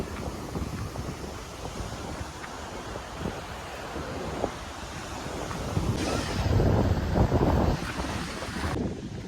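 Sea waves break at Keri beach in Goa as wind blows across the shore. A continuous rushing roar of surf and gusts swells louder partway through, with no voices.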